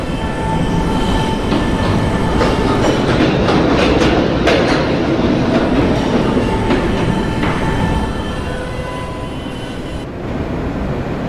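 A New York subway B train rumbles along the tracks with steady clattering and faint squeals, loud and close, with no voices.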